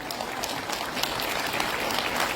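Audience applause at a public gathering in Itanagar, Arunachal Pradesh: dense, steady clapping from many hands, fairly distant and even throughout, with no talk over it.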